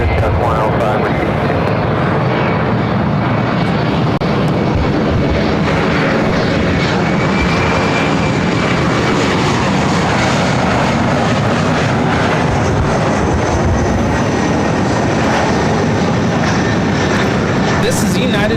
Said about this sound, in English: 4633 coming in from Boise, Idaho on the CRJ 700 ER.